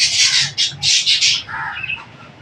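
Birds squawk and chirp in a quick series of loud, close calls after a heavy rainstorm, with a soft, steady background wash beneath them.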